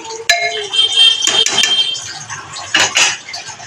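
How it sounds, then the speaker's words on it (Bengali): A pressure cooker lid set onto the pot in a home kitchen: a sharp metallic clank at the start, then scraping and clinking metal as it is fitted and locked, close and fairly loud. "আবার আমি প্রেসার কুকারের ঝাঁপনিটাকে লাগিয়ে দেবো। ঝাঁপনিটা লাগিয়ে দিলাম।"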